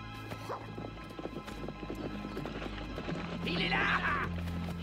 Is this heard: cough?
no